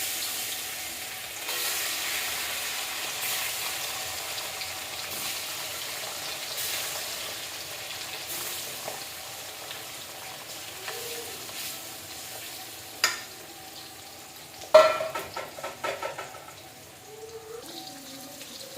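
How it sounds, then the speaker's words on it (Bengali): Fish fries in a pan with a soft, steady sizzle throughout, joined by a few clinks and scraping sounds from cookware near the end. "এই দেখো মাছ ভাজা হচ্ছে"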